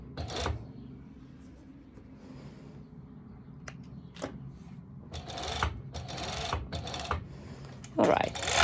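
A serger stitches elastic onto swimwear fabric in several short bursts of machine whirring, separated by quieter gaps and sharp clicks, recorded up close with some talk at a lower level.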